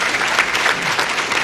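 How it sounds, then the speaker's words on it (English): Dense applause fills a Westlake Founders Day gathering as the audience claps for the police chief, a continuous even roar of many hands, close and steady throughout. "who deserves a round of applause, please"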